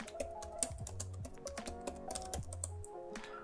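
Computer keyboard typing a command on Kali Linux, a quick steady run of close, crisp keystrokes with no talk.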